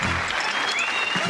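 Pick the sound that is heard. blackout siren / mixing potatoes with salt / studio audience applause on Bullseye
studio audience applause on Bullseye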